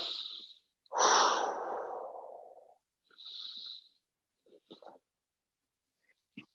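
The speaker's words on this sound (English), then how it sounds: "Breathing." Slow breaths drawn in and released during a yoga session: a long, loud exhale around a second in, then softer breaths and faint rustles, close to the microphone with quiet gaps between.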